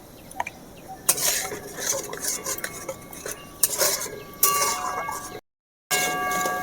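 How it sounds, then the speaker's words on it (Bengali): A utensil stirs momo chutney in a pan, with clinking metal scrapes and knocks against the pan in irregular bursts over a low background hiss, close by, ending after a brief dropout of silence; no talk. "এভাবে আস্তে আস্তে ভালো করে নেড়ে নিতে হবে।"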